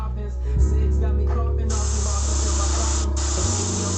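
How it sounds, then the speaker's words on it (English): An airbrush sprays paint in a steady, loud hiss that starts after a brief low mechanical hum and runs on continuously, with a short dip partway through. "Now, let me tell you something about this airbrush."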